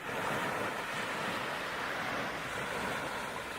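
Ocean waves for a stage play roll as a continuous, even wash of surf noise, broad and steady without distinct breaks.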